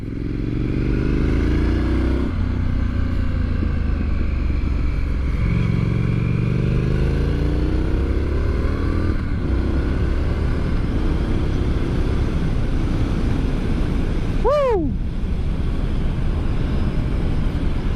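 A 2023 Triumph Scrambler 900 ridden on the road, its engine a loud continuous drone with rising and falling pitch through gear changes, mixed with steady wind rush.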